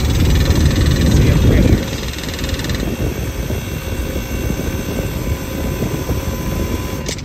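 Air conditioner compressor with a low R22 refrigerant charge from a leak, running with a loud rough droning roar and a harsh rattle at the start, steady throughout.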